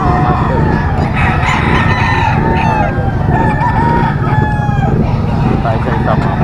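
Gamefowl roosters crow loudly and repeatedly at a game farm, several birds overlapping with clucking and barnyard clamor, while someone speaks over the constant racket.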